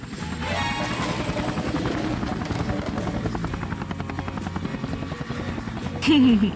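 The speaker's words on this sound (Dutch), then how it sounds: "Lanceer de helikopter." A cartoon helicopter launches with a loud, steady rotor chop and engine buzz that holds throughout, ending in a sharp rising whine at the close.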